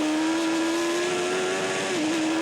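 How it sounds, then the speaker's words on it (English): Superbike motorcycles racing in a Joey Dunlop-era road race, a loud sustained high-pitched engine whine holding steady near the microphone with a brief dip in pitch, no talking. "David Jeffries, the man who didn't think that Joey Dunlop would be the main competitor here in the Superbike race"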